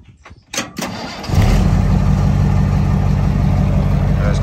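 A truck engine, boosted by an Acmount jump starter, cranks briefly after a few clicks, catches loudly and settles into a steady, rumbling idle close by.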